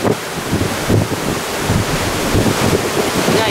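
Ocean waves surge beside the cruise ship Pride of America off Hawaii at night. The washing roar is heavily mixed with wind buffeting the microphone.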